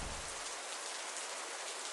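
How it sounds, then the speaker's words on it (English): Steady rain falls as a dense, even hiss, fairly soft and continuous with no other sounds. "I love rain."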